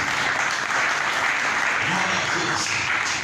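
A church congregation applauds steadily and densely throughout, a continuous wash of clapping with faint voices mixed in during a French-language worship service.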